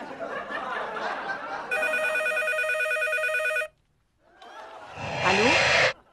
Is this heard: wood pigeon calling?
no